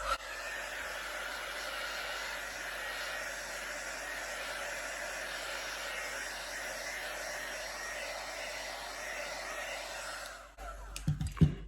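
A heat embossing tool blows steadily over fluid art paint with a continuous, even airy roar that runs almost unbroken, then cuts out near the end, leaving a few faint knocks.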